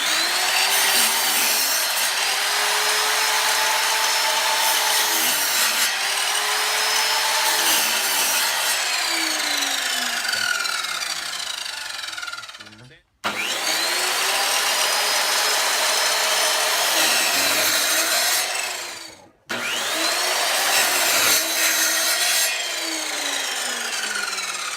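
Kobalt sliding compound miter saw cutting through wood boards, three long loud ripping cuts with whirring blade and grinding bite into the timber, each ending abruptly before the next.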